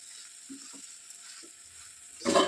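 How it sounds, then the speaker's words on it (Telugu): Diced potatoes with a teaspoon of salt sizzle in a pan over a medium flame for a samosa filling, a soft steady hiss that ends in a louder scraping stir. "దీన్ని బాగా మిక్స్ చేస్తూ ఫ్రై చేసుకోవాలి"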